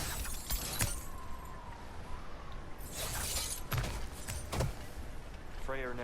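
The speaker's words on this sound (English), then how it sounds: "more pot smashing" Clay pots shattering in God of War Ragnarök, several sharp breaking crashes at uneven intervals over steady game ambience, with a voice speaking briefly near the end.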